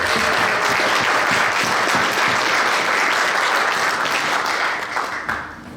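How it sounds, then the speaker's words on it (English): A Republican Party meeting audience at a ranch gives a round of applause, a thick, even roar of many hands clapping close by that holds steady before tapering at the end. "let's give her a big round of applause"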